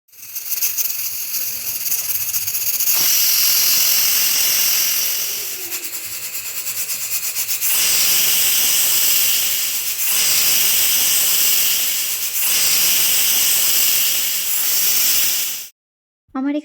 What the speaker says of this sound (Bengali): আমার এখানে 5টে সিটি দিতে লেগেছে।